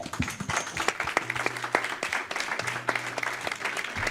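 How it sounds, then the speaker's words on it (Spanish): An audience at a live podcast recording breaks into applause, a fairly thin and uneven clatter of individual claps from a modest crowd, steady for several seconds. "Un aplauso, por favor."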